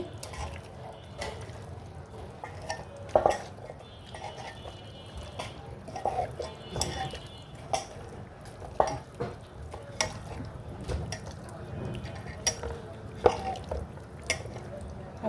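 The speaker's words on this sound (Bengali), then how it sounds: "মাংসটা ভালো করে আমি মাখবো।" Mutton being kneaded by hand with sour yogurt and spices for kacchi, giving soft wet squelches and slaps in an irregular close rhythm, with a few sharper clicks standing out.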